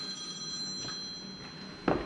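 A phone rings faintly with thin, steady electronic tones in a quiet room, followed by a brief louder bump near the end.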